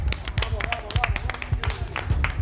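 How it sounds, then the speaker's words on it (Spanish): Studio audience clapping on a cooking competition show after a countdown ends, a dense steady patter of hands mixed with voices and music close by. "Un aplauso."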